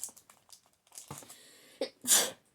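A single sneeze bursts out near the end, loud and close, after scattered soft rustling and crinkling of packaging during a cross-stitch retreat unboxing.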